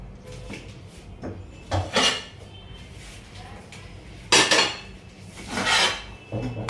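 Seven nested cooking pots clank and scrape as they are handled, with several sharp metallic clatters and rubbing sounds spaced irregularly between quieter handling noise.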